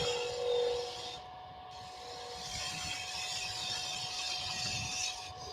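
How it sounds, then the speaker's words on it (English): Wood being turned on a lathe with a 3/8 ball gouge, a continuous faint rasping cut over a steady motor hum, close and without speech. "So this is just my 3/8 ball gouge."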